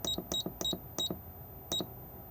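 Five short electronic double-beeps from a control panel, four in quick succession and one after a brief pause, crisp and close.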